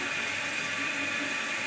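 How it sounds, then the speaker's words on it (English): Water in a toilet tank with a faulty fill valve overflows into the overflow tube and drains away, a steady close trickling hiss that runs without pause. "The water's all the way up to the top and it's flowing over that little tube and draining, and it won't stop."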